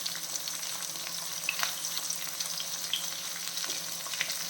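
Brinjal fries in a pan over a medium flame, giving a dense, even sizzle with scattered small pops, steady and close.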